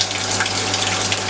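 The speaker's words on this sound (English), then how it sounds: "keep pressing until you fill a 13-litre bucket up" Soda is flushed from the lines of a postmix drinks dispenser into a 13-litre bucket, a steady loud gushing pour with a constant low hum from the dispenser.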